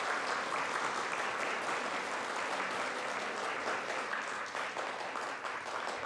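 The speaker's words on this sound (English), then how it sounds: "We'd ask that you please refrain from applause in the gallery" Sustained applause from the gallery of a state senate floor session after a resolution passes, dense and steady throughout, filling the chamber.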